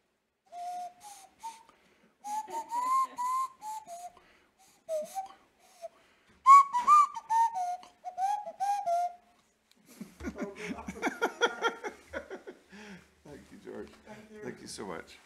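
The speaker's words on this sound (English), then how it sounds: "I haven't played the nose whistle for a while." Nose whistle played in a live church setting, a thin wavering melody of short sliding phrases with breathy pauses, followed by a louder burst of rough, breathy sounds toward the end.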